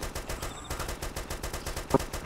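Rapid bursts of Arma 2 gunfire crackle in quick succession, fairly faint and distant, with one sharper shot near the end.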